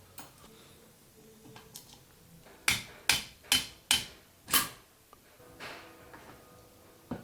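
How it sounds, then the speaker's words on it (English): Five quick metallic taps on valve collets in a Ducati 4V cylinder head, crisp and close in a steady rhythm, with faint workshop clatter around them. "Little tappy tap tap, make sure it's all seated."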